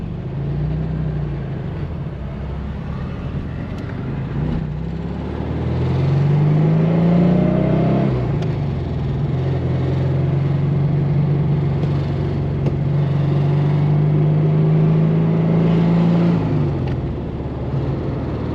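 A 1967 Porsche 912 engine drones steadily while driving, revving up through a gear with rising pitch, a brief drop as it shifts around the midpoint, then settling into a smooth, even hum in the next gear.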